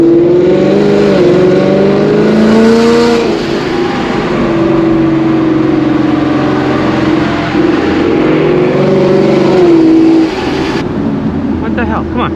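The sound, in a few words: straight-piped Ford Mustang S550 exhaust revving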